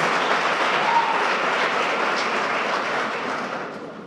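Church congregation applauding at a Presbyterian anniversary service, a dense, steady wash of clapping that fills the room throughout and fades slightly toward the end, with no voices over it.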